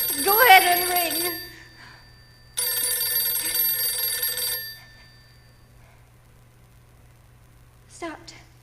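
Telephone bell ringing in a radio drama, two long ringing bursts separated by a pause, loud and close, with a voice speaking briefly under the start and a short spoken sound near the end.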